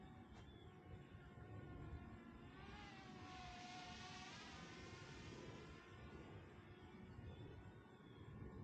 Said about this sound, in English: if you hit it and push it directly down, we're now in sport mode, which is going to make the drone even faster